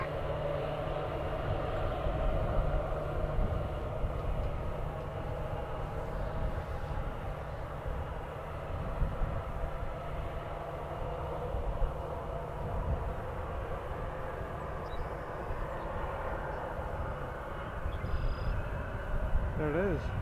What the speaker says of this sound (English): There it is, WestJet flight 300 arriving from Vancouver.